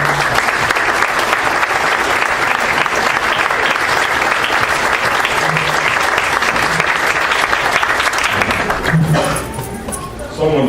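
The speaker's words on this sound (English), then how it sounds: "I'd like to applaud you" Sustained applause from an audience at a 75th anniversary celebration of St. Nicholas Church, dense clapping filling the room for most of the stretch before thinning near the end.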